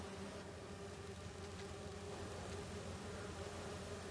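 Bees buzz in a steady, faint drone in Spider-Man 2, a continuous insect hum with no pauses or speech.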